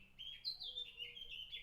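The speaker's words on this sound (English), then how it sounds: "you can just hear the birds singing" Birds sing on a still, quiet morning in Tenerife, clear chirping tweets running continuously at low volume with no other sound around them.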